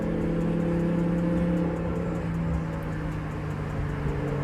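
Twin-turbo Lamborghini Huracán running close by, a loud steady engine drone with a whirring turbo whine layered over it, holding fairly even throughout with no talking.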